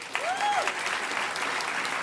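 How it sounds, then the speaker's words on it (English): Closing-ceremony applause at the Hackers On Planet Earth 9 hacker conference, a steady wash of many hands clapping with a faint whistle rising over the crowd near the start. "So give them a round of applause"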